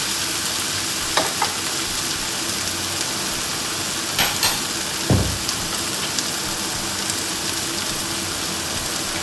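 Tomato masala for a banana-blossom egg roast fries in a pan under a constant hiss, with a few spoon scrapes and clinks, one fuller stirring knock midway, close and without speech.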